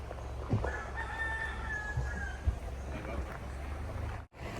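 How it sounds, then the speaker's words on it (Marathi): A rooster crows once in the middle distance in Paia Town, Maui, Hawaii, a long drawn-out call over steady outdoor background noise. "कोंबड्याचा आवाज ऐकला का?"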